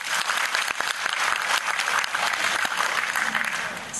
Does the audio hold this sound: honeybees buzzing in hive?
no